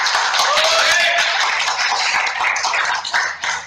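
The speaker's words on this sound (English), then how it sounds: "Getting a lot of applause" An audience applauds at the Redmi 4 smartphone launch event in Delhi, with loud, dense clapping that fills the space and runs steadily before thinning near the end, while a voice carries faintly underneath.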